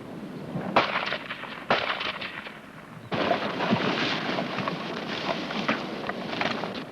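Gunfire rattles in a Cold War British Army section fire-and-manoeuvre drill, with sharp shots and bursts of rifle and machine-gun fire cracking out, some nearer and some farther off, dense and sustained with no speech.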